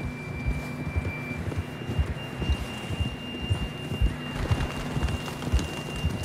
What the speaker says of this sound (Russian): Лошадь.